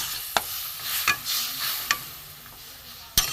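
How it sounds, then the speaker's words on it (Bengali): Mustard, poppy seed and green chilli simmering with water in a pan make a soft, steady sizzle, broken by a few sharp clicks of a spoon stirring against the metal. "এবার আমি সর্ষে, পোস্ত, কাঁচা লঙ্কা দিয়ে দেবো, ওখানে জল দিয়ে দেবো, দিয়ে একটু সেদ্ধ হোক"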